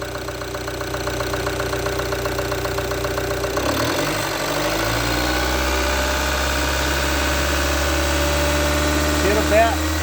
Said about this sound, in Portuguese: Vamos acelerar para vocês ouvirem ela acelerada.